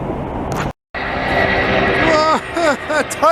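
Airplane turning to land at Montreal airport, a steady broad engine roar heard at a distance, briefly cut out, with voices talking over it toward the end.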